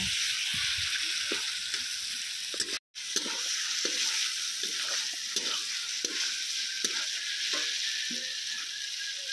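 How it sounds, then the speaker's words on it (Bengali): Mutton pieces stirred and fried in a kadai for curry with potatoes, a steady loud sizzle with repeated scraping strokes of a spoon against the pan, briefly cutting out once. "চাপা খুলে খুলে কিছুক্ষণ ভালো করে নেড়ে চেড়ে মাংসটা মটনটা খুব ভালো করে কষিয়ে নেব"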